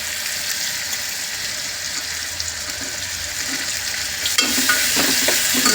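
Chopped onions frying in hot oil in a pan for brinjal rice, a steady loud sizzle with stirring scrapes growing busier near the end.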